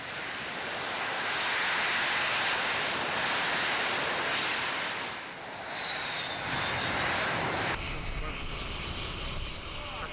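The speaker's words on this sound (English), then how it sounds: "Hunter G. Vita was still undergoing engine runs." A Hawker Hunter jet undergoing a ground engine run at the Kemble airshow produces a loud, steady roar lasting throughout, with a change in pitch and texture about two-thirds of the way in.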